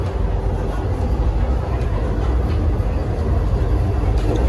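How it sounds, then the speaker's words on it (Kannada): Loud continuous running noise of a moving Vande Bharat train heard from the vestibule between coaches, steady wheel rumble and rattle close by with no talking. "ಟ್ರೈನ್ ಹೊಂಟಿದ್ದು ಸೌಂಡ್, ಕೆಳಗೆ ಗಾಲಿ ಸೌಂಡ್."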